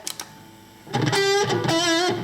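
Electric guitar played through a Zoom G2 Nu on a Marshall amplifier setting with no echo: a couple of faint picked taps, then sustained distorted notes ringing loudly and changing pitch, alone without talk.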